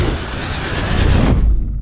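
The full charge-up of a synthesized magic orb effect for a D&D rage mage, a loud, dense rumbling roar with heavy low end that builds and then cuts out sharply near the end.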